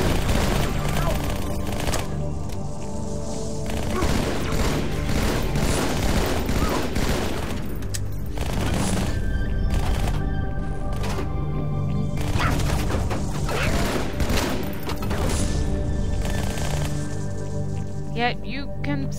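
Dense, rapid bursts of gunfire from the video game Halo 2 rattle on almost continuously, overlapping shots packed close together beneath other game sounds and occasional voices.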